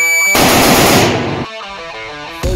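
A loud burst of rapid gunshots on a practical shooting stage, fired with semi-auto rifles, shotguns, a CZ Shadow 2 pistol and hunting rifles, cutting off suddenly, followed by a ringing electronic tone.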